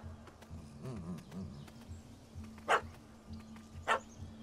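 A puppy barks twice outdoors at night, two sharp separate yaps a little over a second apart over steady low background hum and faint insect chirring, with no talking.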